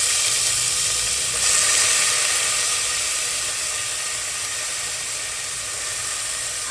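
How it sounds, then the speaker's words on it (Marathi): Soaked jeera rice hits a hot pan with cumin and cloves and sets off a loud, close sizzle. The frying hiss swells at first, then settles into a steady crackle. "आता आपण ह्याच्यामध्ये जिरं राईस जे मी भिजवलं होतं 10 मिनिटासाठी ते सोडते"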